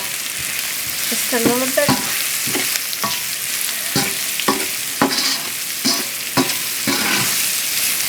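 Sausage, leek and a tablespoon of cooked chicken sizzle and fry steadily in a pan, with repeated scraping stirs of a utensil and a few brief spoken words over the frying.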